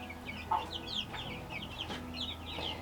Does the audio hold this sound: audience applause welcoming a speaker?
no